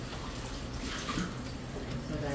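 Water is poured into whey in a pot while making homemade mozzarella, giving a soft, continuous splashing and trickling that stays fairly quiet and close.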